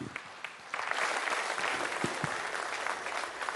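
An audience applauding External Affairs Minister of India Dr. S. Jaishankar at the News18 Rising India event, a few scattered claps that quickly swell into a full, even round of clapping from a hall crowd.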